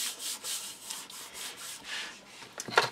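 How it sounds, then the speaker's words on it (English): Paper being burnished down into a handmade memory album, a soft dry rubbing that sweeps back and forth in steady rhythmic passes, close and fairly quiet, ending with a few sharper scrapes. "And then push down, burnish that in."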